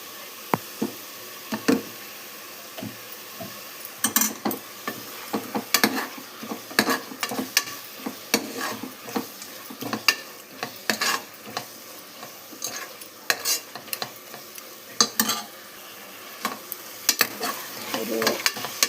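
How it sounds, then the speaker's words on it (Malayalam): Ground masala paste and ghee fry in a pan under repeated stirring, giving a steady close sizzle broken by frequent scraping knocks of a spoon against the metal, with no talking. "നമ്മൾ അരച്ച് വെച്ച മസാല, നെയ്യ് കുറച്ച് ആഡ് ചെയ്യാം."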